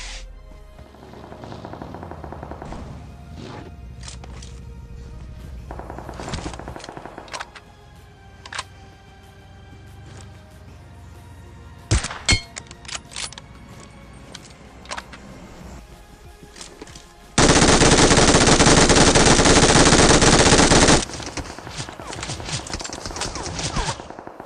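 Distant AKM rifle fire in PUBG, scattered bursts of gunshots heard faintly among game sounds, with a louder sharp volley midway and a sustained loud noise burst near the end.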